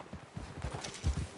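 Horse hooves clip-clop at a quick, uneven trot in Red Dead Redemption 2, a run of soft low thuds close by and fairly quiet, with no voices over them.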